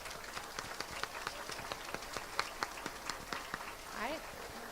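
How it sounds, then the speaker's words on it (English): An elementary school audience at a fifth-grade celebration claps in a scattered, uneven patter, moderately distant, with people talking over it. "another round of applause"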